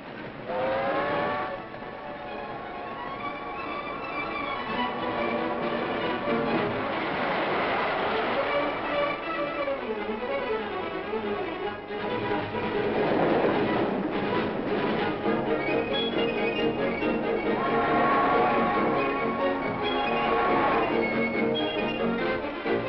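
Train travelling on a railroad in an early-1950s film, a steady rumbling roll with rhythmic clatter and faint whistle-like tones running throughout, moderately loud with a muffled, old-recording quality.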